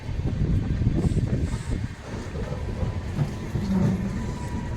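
The Surat Mahuva Express (19255) rolls along with a low, rough rumble and buffeting wind noise, fairly loud and continuous with a brief dip midway.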